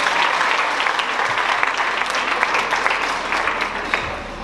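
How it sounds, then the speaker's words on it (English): An audience of a school speaking event applauds after a seventh-grade student's presentation, a loud, dense, continuous wash of clapping that holds steady throughout. "Another round of applause"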